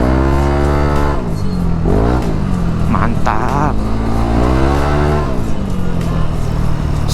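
A loud K'Race standard racing motorcycle exhaust revs up and down in rising and falling sweeps, close and aggressive, with a short spoken word over it.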